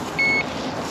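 Fishing bite alarm at a communal pond during feeder fishing, a single short steady electronic beep of under half a second over quiet outdoor background.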